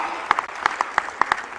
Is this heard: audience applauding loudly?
yes